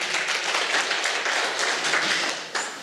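Audience at a principals' seminar applauding, a steady wash of many hands clapping at moderate distance, fading slightly toward the end with no talk.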